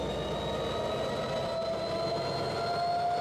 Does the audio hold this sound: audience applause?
no